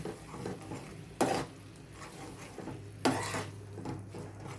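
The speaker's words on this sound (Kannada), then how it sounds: "ಚೆನ್ನಾಗಿ ಮಿಕ್ಸ್ ಮಾಡ್ಕೊಳ್ಳೋಣ" Ground sambar paste being stirred in a pot, soft scraping with two sharper spoon knocks against the metal, faint and close with no talk.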